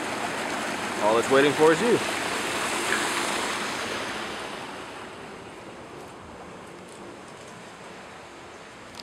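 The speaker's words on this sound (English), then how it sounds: "someone's got the jets and the bubbles already going for you" An outdoor hot tub at a rental home runs with its jets and bubbles going, giving a steady rushing, bubbling wash that swells early and then settles, while someone speaks briefly over it.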